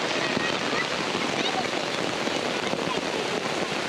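Heavy rain pours down steadily during a hike near a waterfall in Canada, a dense, even hiss filling the whole stretch without a break.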